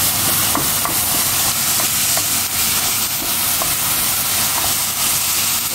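Minced meat sizzles steadily in a hot frying pan, a dense continuous hiss broken by soft periodic scrapes as it is stirred, close and fairly loud with no voices.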